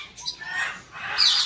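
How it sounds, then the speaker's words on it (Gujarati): Indian parrots squawk in a sunny garden with short, harsh, rasping calls that grow louder toward the end, heard close by with no talking. "આપણા ઓરિજિનલ પોપટ આ રહ્યા, જો ઓરિજિનલ આપણા ઇન્ડિયન"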